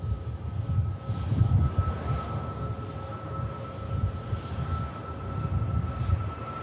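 A Boeing 747-400 arriving at Manchester Airport, a steady distant jet engine roar with a sustained whine, rising and falling gently in loudness, heard from an outdoor spotting position with no talking.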